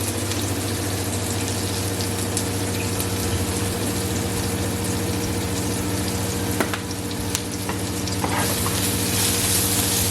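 Peppers with a little parsley fry gently in a pan over low heat, giving a steady, even sizzle that carries on without a break throughout, with no voices over it.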